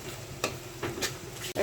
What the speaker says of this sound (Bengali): এখন সমস্ত মশলাটা আমি কষিয়ে নিব।